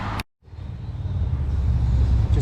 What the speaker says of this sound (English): Just gonna have to excuse the traffic noise